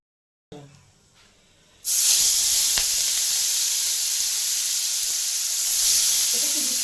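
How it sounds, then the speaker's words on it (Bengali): Shrimp frying in hot oil in a pan set off a loud, steady sizzling hiss that starts abruptly after a short quieter opening and continues close up with no talk. "চিংড়ি মাছ ভাজা হয়ে গেছে"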